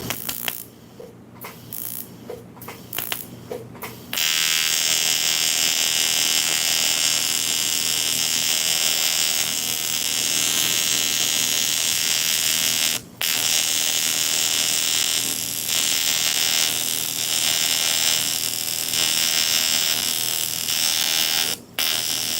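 TIG welder arc running on a new rig, a steady loud buzzing hiss that starts after a few seconds of clicks and clatter and continues with brief dropouts, close and with no talking.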